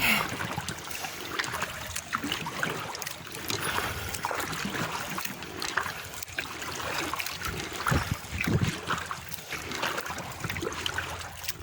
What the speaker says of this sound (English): I'll paddle up a little closer and see what we can find.